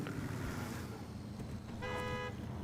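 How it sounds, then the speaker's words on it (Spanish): Horn of a modded Iceberg Sooty truck in SnowRunner gives one short tonal toot near the end over a low engine rumble, fairly quiet overall. "Tiene su bocina, un sonido motor bien bonito, como buen V6."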